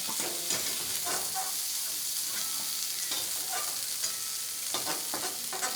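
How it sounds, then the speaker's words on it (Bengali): Cauliflower florets fry in hot oil in a wok, a continuous close sizzle with scattered crackles and light scraping from stirring, and no speech. "ফুলকপিগুলো লাল লাল করে ভেজে নিয়েছি"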